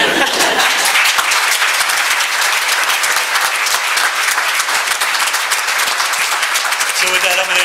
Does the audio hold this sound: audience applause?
yes